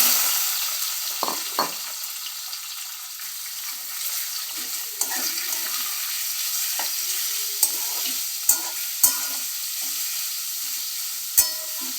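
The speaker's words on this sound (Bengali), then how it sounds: "এবার এই তেলের মধ্যে ম্যারিনেট করা চিকেন আর চিংড়ি মাছটা আমি ফ্রাই করে নেব।" Marinated chicken and prawns frying together in oil, a steady sizzle with scattered sharp pops and crackles over about twelve seconds, fairly close and moderate in level, with no voices.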